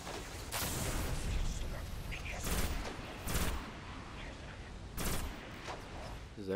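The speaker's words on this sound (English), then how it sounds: "That guy's still shooting at me up there." Enemy gunfire in the shooter game Destiny, repeated bursts of shots, some close and loud, others farther off, crackling over a steady bed of game noise and music.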